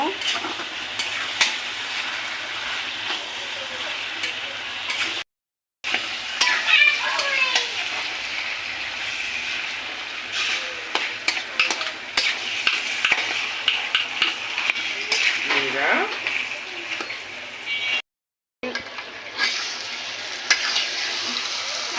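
Sugar is stirred into an olive pickle in a pan, giving continuous scraping and stirring with a soft sizzle and occasional utensil knocks, broken by two short silent gaps.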